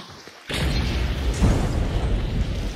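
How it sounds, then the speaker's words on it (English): A frag grenade in a video game detonates with a sudden loud boom, followed by a rumbling, crackling blast tail that lingers for about two seconds. "You need to get away from that frag."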